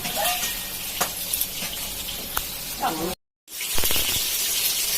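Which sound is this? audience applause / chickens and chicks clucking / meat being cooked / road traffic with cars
meat being cooked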